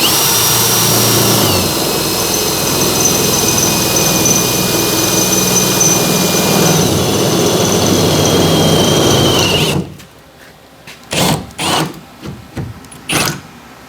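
Power drill boring through the metal body of a VS30 Sprinter van while fitting a rear tire ladder carrier, a loud, steady high-pitched whine held for about ten seconds, then stopping and followed by a few short bursts.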